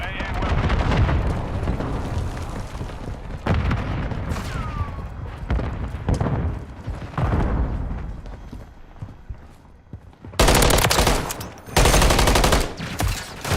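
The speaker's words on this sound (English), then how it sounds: "Taking effective fire!" Call of Duty Modern Warfare 3 combat, with near, continuous gunfire made of rapid automatic bursts and heavier booming shots, then a pair of very loud blasts toward the end.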